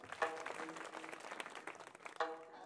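An audience claps at a kirtan gathering in Maharashtra, a soft, fairly distant patter of applause with a couple of sharper bursts, heard without speech.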